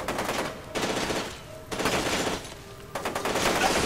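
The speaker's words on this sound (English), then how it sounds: "I'm being shot from up, down, and all around here" Automatic gunfire from the F.E.A.R. 2 video game comes in repeated loud, close bursts of rapid shots that rise and fall in waves without pause.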